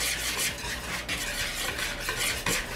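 A spoon or whisk stirs flour, cornmeal, baking powder, baking soda and salt together in a bowl, a close, steady scraping and swishing with quick rhythmic strokes, and no one talking.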